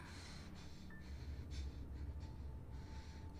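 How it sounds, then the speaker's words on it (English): Heavy breathing in Resident Evil 7, a series of close, loud gasping breaths and snorts over a low background hum, repeated in short bursts. "Breathing rather heavily."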